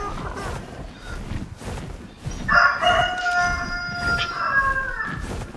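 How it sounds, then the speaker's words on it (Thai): Rooster crowing in the ARK survival video game, a loud drawn-out cock-a-doodle-doo with wavering tones that starts partway through and rings over faint footsteps and background ambience. "ไก่ขัน"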